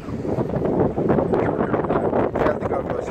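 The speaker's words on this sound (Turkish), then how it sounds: "deniz ve rüzgar" Strong wind buffets the microphone in steady, loud gusts, a broad roaring rush with no voices.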